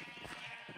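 Sheep bleating in a Minecraft-style game, a short, faint wavering bleat over a soft background hum, with no talk over it.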